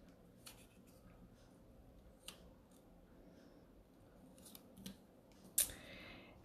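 Scissors cut out a small paper coffee cup shape, giving quiet scattered snips and rustles at close range with a brief brighter snip near the end. The setting is otherwise hushed.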